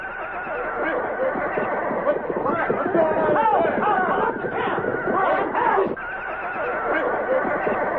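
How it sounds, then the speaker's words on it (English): A radio drama effect of horses neighing and whinnying in an uproar at a camp toward dawn, several loud overlapping squealing cries mixed with a murmur of voices throughout. "Then along toward dawn, there was an uproar of noise from the horses."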